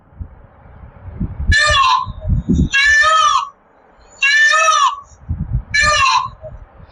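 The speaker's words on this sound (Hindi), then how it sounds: "तो मोर कैसे बोलता है, जरा ध्यान से सुनिएगा।" Peacock calls ring out four times in a row, each a loud, high, harmonic wail lasting under a second, with low rumbling noise in the gaps between them.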